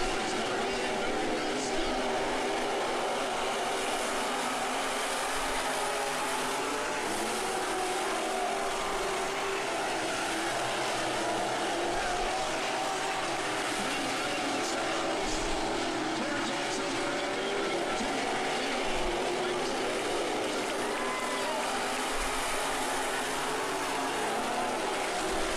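A race car runs at Maquoketa Speedway, heard from onboard. A constant, loud engine roar and rushing wind last throughout, with a voice talking over it.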